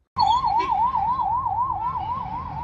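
An ambulance siren wails in a slow up-and-down sweep, loud and close, while the ambulance is stuck in heavy road traffic, with engine rumble beneath.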